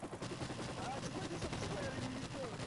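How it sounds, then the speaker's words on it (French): A combat helicopter in Call of Duty Modern Warfare Remastered throbs with rapid, continuous rotor chopping, mixed with bursts resembling gunfire throughout a short, busy stretch. "C'est un hélicoptère de combat."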